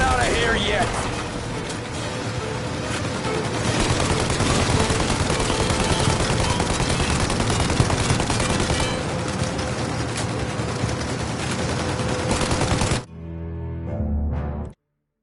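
Continuous rapid gunfire in the Mafia Definitive Edition video game, with dense bursts at a plane taking off, loud and sustained for most of the stretch before cutting to quieter game sound, with shouting voices over it.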